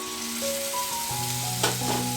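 Tomato puree frying with onions in oil, heard as a continuous sizzling crackle with a brief stirring scrape near the end. Faint tonal hums sit in the background, and no one speaks.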